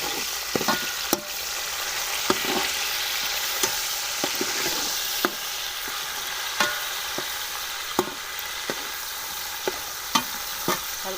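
Tomatoes added to lightly browned onions fry with a constant sizzle, punctuated every second or so by crisp scrapes and taps of a stirring spoon against the pan; no one speaks.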